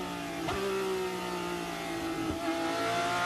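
A Porsche Supercup race car on the 2017 Mexico City circuit accelerates hard, its flat-six engine note climbing steadily through the revs in a sustained, fairly distant wail, with a brief gearshift blip partway through.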